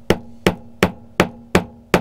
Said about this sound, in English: just try and bang that back into place